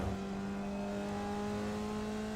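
A Formula Vee race car in the iRacing sim drones steadily at high revs after shifting up to fourth, a constant buzzing engine tone with clear harmonic whine, close and continuous with no talk.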